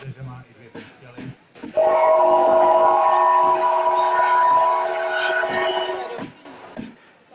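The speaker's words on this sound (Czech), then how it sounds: "Slyšíte, že má i dvě píšťaly." A steam locomotive with two whistles sounds a long, loud, sustained blast lasting about four seconds, with people talking before and after.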